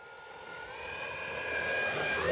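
An E-flite Carbon Z Cessna 150T or Cub SS RC model airplane flies by with its electric propeller whining steadily and growing louder as it nears.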